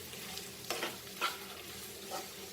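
Smoked Goan pork sausages with okra stirred in a pan over a slow fire give a steady, soft sizzle. A few louder scrapes and clinks from the stirring rise above it.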